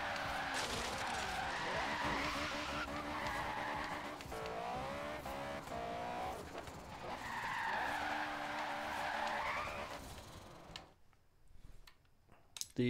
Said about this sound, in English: this car is so much faster with this motor in it